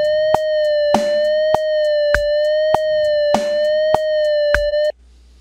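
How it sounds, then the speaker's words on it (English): Simulated guitar note held steadily with a very slow vibrato gently rising and falling in pitch, sounding alone against a regular metronome click that ticks throughout before the note stops. "that's very, very slow vibrato"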